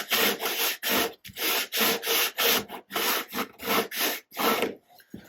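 Wooden archtop guitar top being sanded by hand, rhythmic back-and-forth rasping strokes, about a dozen even passes close to the microphone, each a loud gritty rub separated by brief pauses.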